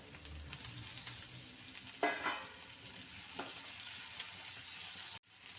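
Onions, tomatoes and curry leaves sautéing in a pan, a low steady sizzle with a couple of brief spoon stirs, faint and close, no voices.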